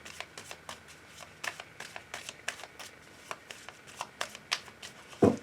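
A deck of tarot cards is handled and cut, producing a run of crisp, irregular card flicks and riffles close to the microphone, with a sharper knock at the end.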